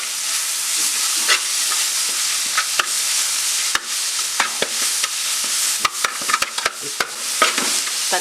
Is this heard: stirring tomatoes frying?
yes